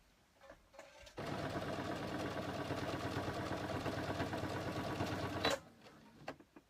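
A home sewing machine runs in one continuous burst of about four seconds while stitching little girl's legging shorts, a fast even mechanical whir and clatter, close and fairly quiet, with faint handling sounds before and after.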